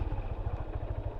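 A motorcycle engine rumbles steadily and close by at low revs as the rider shifts down and brakes during a riding-control practice exercise, with a slightly pulsing, clattery low throb throughout.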